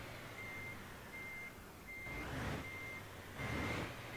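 Repeated electronic reversing beeps from a truck backing up in Euro Truck Simulator 2, steady evenly spaced tones over a low diesel idle, quiet and without talk.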